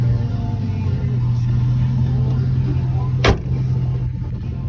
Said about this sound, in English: Dual exhaust. The truck sounds awesome.